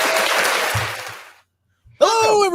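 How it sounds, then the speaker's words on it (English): A burst of applause, played on cue during a live online chat with guests from Team Auric, sounds for about a second and fades to silence before a voice starts talking. "Applause. There it is."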